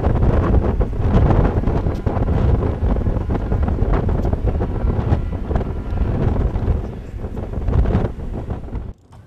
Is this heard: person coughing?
no